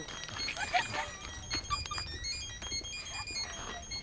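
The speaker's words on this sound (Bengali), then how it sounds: "ফোন আসে" An incoming call sets off a phone's melodic ringtone, which repeats its tune steadily at moderate volume beneath soft voices and room noise.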